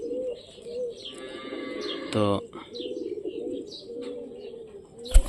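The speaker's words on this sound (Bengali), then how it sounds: "কিভাবে হাতের মধ্যে কবুতর ডাকে আহে দেখেন" Pigeons coo softly and continuously close by at a feeding spot, with a brief wing flutter near the end and someone saying a single short word.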